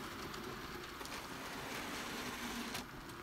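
HO scale model train, Thomas and Friends engines including Percy and a decapod, running on track with a steady close rolling rumble and faint clicking throughout, no voices.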